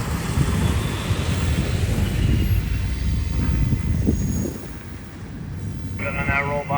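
A freight train rolls by, a loud rumbling roar that eases near the end as the last cars pass, followed by a brief burst of higher-pitched sound.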